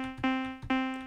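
Two short, buzzy synth plucks from a BS2 acid waveform with unison switched off, played back to back with a steady tone and a bright attack on each note.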